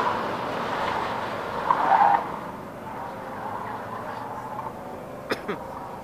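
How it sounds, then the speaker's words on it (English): A borrowed Subaru WRX runs an autocross course, its engine a steady moderate drone with a brief louder surge of revving or tire noise early on and a couple of sharp clicks near the end, with no talk. "We got number one, Matt Roy, the Pax Master out on the course right now. Borrowing a WRX"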